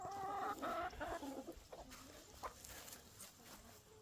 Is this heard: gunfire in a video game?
no